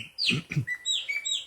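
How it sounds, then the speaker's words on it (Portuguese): A small bird chirps and whistles in a quick run of short, bright notes, close and clear with no talking over it. "Você está ouvindo o passarinho cantar"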